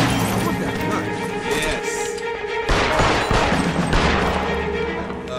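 Gunfire from a machine gun in the video game LA Noire, a dense, continuous fusillade of shots running throughout, loud and close, with brief bursts and impacts mixed in amid game noise.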